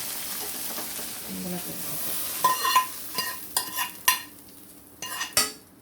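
Dal and tomato curry simmering in a pan with a gentle sizzle, as a spoon stirs and scrapes it in short clinking bursts in the second half.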